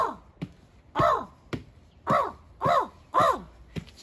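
A person imitates a crow, giving a series of five or six harsh, descending caws at a steady rhythm, close and fairly loud, separated by short pauses with faint clicks between them.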